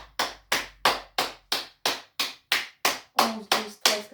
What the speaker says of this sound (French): Déjà, on va applaudir.